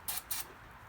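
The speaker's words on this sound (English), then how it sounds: "A little bit of my favorite starting fluid" Two short hissing bursts of starting fluid sprayed into an abandoned generator, close and fairly quiet, followed by a low steady background.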